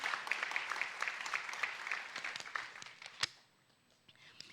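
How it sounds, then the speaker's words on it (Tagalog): Audience applause at a talk on integrity: dense, steady clapping that carries for about three seconds, then fades quickly to near silence after one sharp clap. "Tigituloy niyo po yung palakpak."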